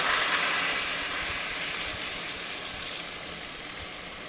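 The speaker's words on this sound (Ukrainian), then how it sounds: "Тепер я скипятила чайник води, заливаємо водою, поки не покриються кабачки і картошка." Boiled water poured from a kettle over zucchini and potatoes in a pot for pureed zucchini soup: a steady rushing splash, close and continuous, gradually easing off, with no talking.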